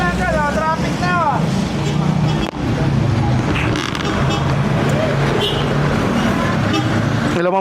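Steady road traffic rumbles loudly all around, engines droning and passing, while a person talks over the noise.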